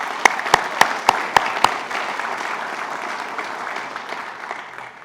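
Audience applause at a state public safety badge of excellence awards ceremony, a steady sustained clapping from a seated crowd in a hall, with a few sharp close claps standing out near the start before it settles into an even patter.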